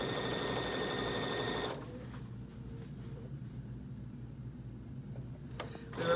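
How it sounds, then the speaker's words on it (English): Sewing machine stitching a quarter-inch quilt seam on scrappy quilt pieces, a faint, steady motor hum that runs briefly and then drops to a quieter whir with small clicks, with no voice over it. "So stop and adjust as often as you need to as you're stitching down on this."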